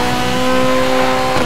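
Racing car engines roar steadily in the Need for Speed Most Wanted video game, a loud continuous drone with a brief swell near the end.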